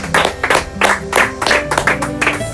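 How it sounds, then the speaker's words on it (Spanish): A church congregation applauds in worship, the clapping falling into loud rhythmic bursts roughly twice a second alongside tonal music or voices. "¿Cuánto le damos un aplauso al Señor Jesús?"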